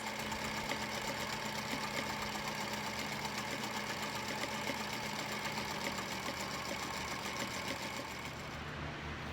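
Sewing machine running a continuous quarter-inch stitch along an upcycled belt waistband, a steady rapid mechanical whir that stays even and close throughout, easing slightly at the end.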